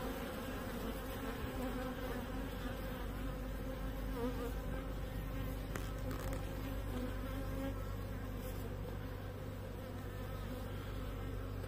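Honeybees from a hive split that lacks a queen, buzzing in a dense, continuous drone close by, steady throughout with no voices.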